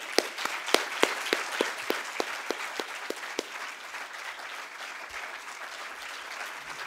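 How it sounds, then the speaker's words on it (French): An audience applauds a speaker at a lecture in La Roche-sur-Yon, with a burst of sharp claps that thins out and fades to scattered, quieter clapping. "avec un applaudissement bien mérité"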